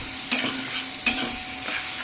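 Dry fish being sautéed with garlic, onion, green chilies and chili powder in a pan, stirred in three sharp scraping bursts over a steady low sizzle, close and without talk.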